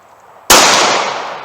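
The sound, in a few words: gunshot from a .380 pocket pistol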